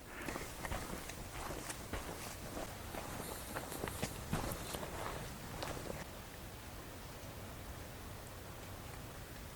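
Footsteps walking outdoors at a Michigan campground on a damp drizzly morning, a steady crunching stride throughout, with light rain hiss underneath and the pace easing after several seconds.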